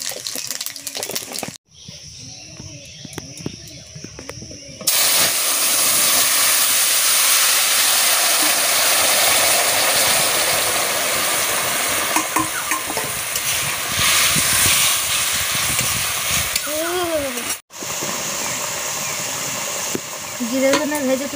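Cumin and coriander frying in a pan for a fish curry, a loud steady sizzle that rises sharply after a short quieter start, with brief interruptions and a few faint voices in the background.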